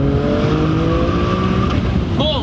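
RUF RT12 S accelerating hard in second gear, its engine roaring loud and close with rising harmonic tones that climb steadily through the revs, a brief shift blip near the end.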